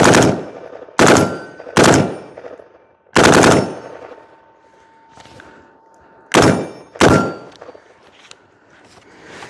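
A rifle fitted with a forced reset trigger rips through a magazine in rapid, loud bursts, several clustered volleys of sharp shots separated by brief gaps, ringing out near and alone.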